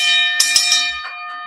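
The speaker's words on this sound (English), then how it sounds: "Let me give you that gong for the support" Gong struck during a boxing talk stream, a bright metallic shimmer ringing with sustained tones and a few quick repeated hits before it fades.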